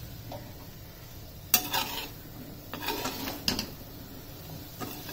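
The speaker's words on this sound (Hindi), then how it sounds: "ये चने इसमें डाल देने हैं और इसको करना है अच्छे से मिक्स" Chickpeas are stirred and mixed in a pan over a medium flame, with a few scraping, clattering strokes of a spoon against the metal over a faint background hiss.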